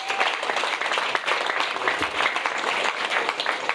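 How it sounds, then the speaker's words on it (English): Crowd applause at a park reopening ceremony for a splash island water park, steady dense clapping from many people sustained throughout, fairly close and loud with no break. "So a big round of applause to everybody here."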